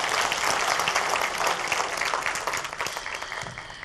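Steady applause from an audience at a leadership forum at the University of Nairobi, dense and continuous for the whole stretch with no talk over it.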